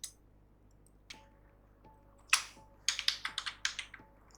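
Keys on a computer keyboard click in a quiet room, a few isolated taps first, then a quick burst of rapid typing toward the end.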